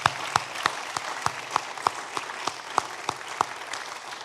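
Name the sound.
applause for award finalists and winners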